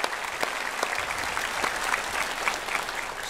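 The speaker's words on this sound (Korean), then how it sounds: "서로 격려하면서 축하의 박수 드립시다" Church congregation at a Sunday worship service clapping together, a steady dense wash of many hands with scattered sharper claps standing out, moderately loud and sustained throughout.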